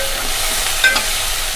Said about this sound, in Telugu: ఇప్పుడు ఉల్లిపాయ, పచ్చిమిరపకాయ, కరివేపాకు వేసుకుందాం.